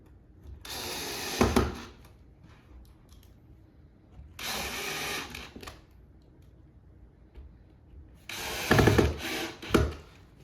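Power drill driving screws during furniture assembly, three short bursts of whirring separated by quiet gaps, close by, with faint ratcheting clicks at the end of each run.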